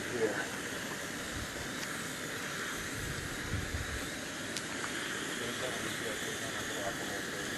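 Three camping stoves, one of them an alcohol stove, burn together with a soft steady hiss and faint roar, the flames a low continuous wash close by.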